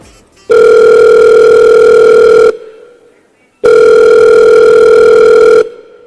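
Two long, steady telephone tones during a phone call, each about two seconds, separated by a short silence, loud and clear with no voices.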